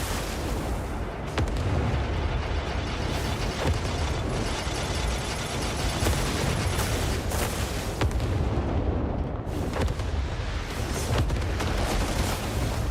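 Torpedo blasts and heavy explosive booms in the video game Crimson Desert, a dense, loud, continuous barrage of rumbling detonations with sharp cracks, briefly easing near the nine-second mark before surging again.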